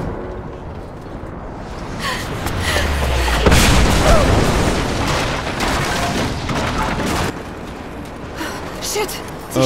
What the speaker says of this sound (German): Sie schießen auf mich!